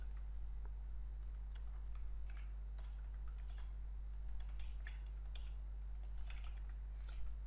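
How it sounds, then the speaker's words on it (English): Soft, quick, irregular keystrokes on a computer keyboard, faint and close, over a steady low electrical hum with no speech. "there I'm just typing"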